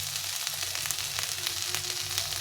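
Tomatoes frying in a pan with boiled black chickpeas and potatoes, giving a continuous, fairly close crackling sizzle with small pops throughout and no voices.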